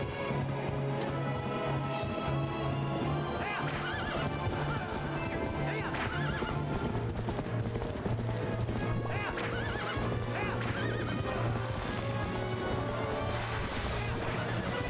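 A horse gallops with rapid clip-clop hoofbeats and repeated whinnies in The Legend of Zelda: Twilight Princess HD, loud and continuous over game music, with crashes and impacts mixed in.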